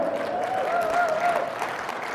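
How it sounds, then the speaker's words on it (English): An audience at a grow conference opening talk claps steadily, a soft continuous patter of many hands with a faint voice underneath. "you can clap"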